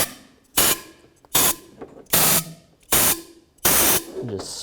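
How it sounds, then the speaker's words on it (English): Compressed air blasted onto the intake ports of a 2003-07 Cadillac CTS engine in five sharp, loud hissing bursts of about half a second each, with short gaps and faint workshop noise between. "Just take a little compressed air."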